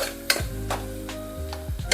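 Onions and spices fry lightly in a pan for Telangana-style egg pulao, with a steady close sizzle broken by several sharp spatula strokes against the pan.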